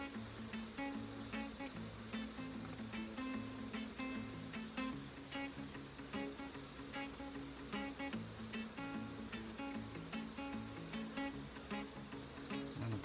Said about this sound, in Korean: 벌들이 이제 좀 활기차게 막 나와서 난놀이 같은 걸 하네요